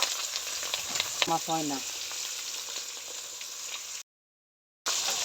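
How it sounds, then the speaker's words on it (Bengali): Small pabda fish frying in a hot pan, a steady bright sizzle and crackle that keeps on throughout, with a brief voice speaking over it and a short gap of silence near the end. "মাছগুলো ভালো করে ভাজবো আমি, লাল লাল করে।"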